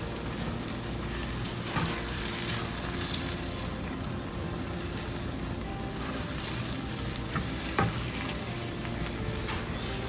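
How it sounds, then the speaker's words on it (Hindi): Moong dal with kasuri methi being stirred in a hot pan, a continuous close sizzle with rhythmic scraping of a spoon and occasional sharper clicks, no talking. "इसको अच्छी तरह से मिक्स कर लें"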